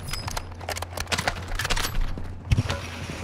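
Rapid gunfire in an online shooter game with an MX9 loadout: a steady stream of sharp shots and bursts at moderate distance, with one louder crack near the end and a low mechanical rumble underneath.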